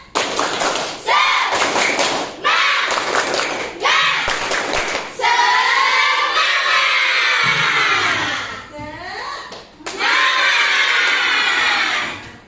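A classroom of sixth-grade children doing a rhythmic chant-and-clap routine, loud bursts of claps and thumps in quick patterns alternating with shouted voices, led by a teacher, all close and energetic.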